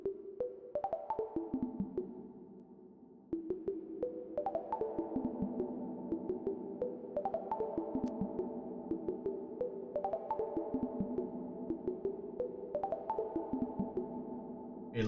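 Ambient synth pad built from Ableton stock plugins and run through Hybrid Reverb, playing slow sustained chords that shift every couple of seconds, with soft plucked accents and a long washy tail, steady and fairly quiet.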